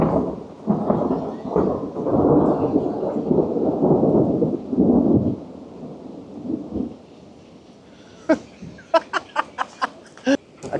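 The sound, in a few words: thunder after lightning during a mountain thunderstorm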